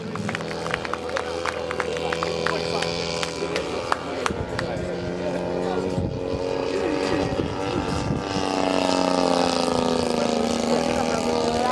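A radio-controlled model airplane flies aerobatic passes at an Italian flying event, its engine a steady droning whine that rises and shifts in pitch throughout, with crowd murmur and a commentator's voice over a loudspeaker.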